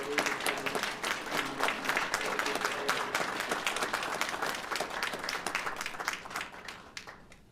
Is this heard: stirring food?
no